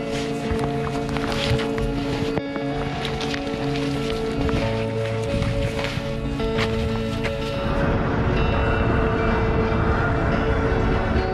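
A Ukrainian electric commuter train at the Uzhok Pass in the winter Carpathians rumbles steadily with a sustained mechanical drone and tonal hum, growing rougher and louder near the end, with no voices.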